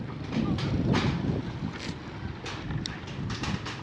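A heavily loaded boat motoring across water in Laos, with steady engine rumble and wind buffeting the microphone throughout, fairly loud and continuous.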